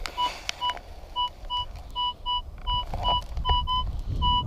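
A metal detector sounds a target signal in a Welsh field, reading a target ID of 12-42, giving a series of short, clear electronic beep tones in an irregular rhythm, each a brief two-pitch ping, over low wind rumble.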